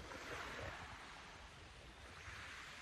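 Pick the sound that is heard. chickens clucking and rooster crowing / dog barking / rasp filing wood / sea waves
sea waves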